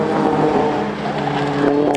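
Race cars at Lydden Hill circuit, nose to tail toward the Devil's Elbow, keep up a loud, continuous engine roar with overlapping revs and a brief tire squeal.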